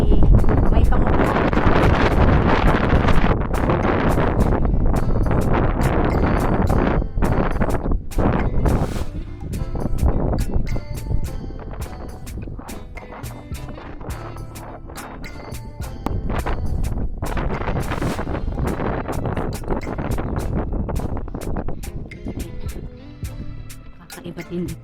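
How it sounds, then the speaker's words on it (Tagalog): Strong wind buffets the microphone on a coastal hike among rock formations at Chung Hom Kok, Hong Kong, with loud, gusting roars that ease and return, while people talk over it. "Ang lakas ng hangin."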